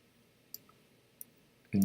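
Two crisp, faint computer mouse clicks about half a second apart stand out against a quiet background, followed by a sudden louder thud at the very end.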